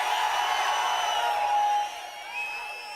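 A large outdoor crowd at an AIADMK election campaign rally in Attur cheers, making a sustained wash of distant roaring and whooping that dips and swells near the end, with no clear voices on top.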